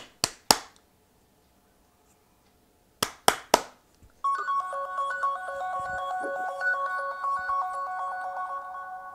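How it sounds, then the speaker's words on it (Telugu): Three sharp hand claps, a pause, then three more claps set off a phone's ringtone, which plays a bright repeating electronic melody nearby and continues steadily to the end. "చూసారు కదా ఫోన్ రింగ్ అనేది వినిపిస్తుంది."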